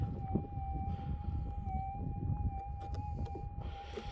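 A metal detector's steady electronic threshold hum holds a constant pitch with a faint higher overtone, over a low rumble of wind and background noise, with no talking.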